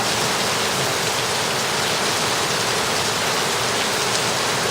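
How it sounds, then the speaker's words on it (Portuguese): Heavy rain during flight in a Citabria light airplane, a dense, even hiss of rain and rushing air that stays loud and constant throughout, with no voices. "Voando na chuva."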